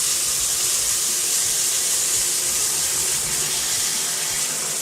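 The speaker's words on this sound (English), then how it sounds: "let's go ahead and fill up the bucket and get our developer to the right temperature" Hot water runs from a tap into a bucket with a steady, loud, hissing rush that holds unbroken throughout, with no voices.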